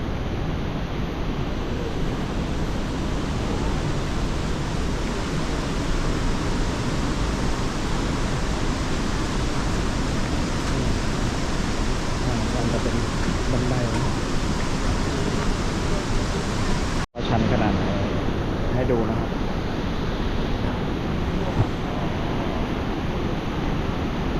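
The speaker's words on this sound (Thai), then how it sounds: "เห็นไหมเสียงน้ำตก" Steady, loud rushing roar of a waterfall at Haew Narok in Khao Yai forest, heard from a steep trail viewpoint, with a dense wash of water noise throughout and a brief break near the end.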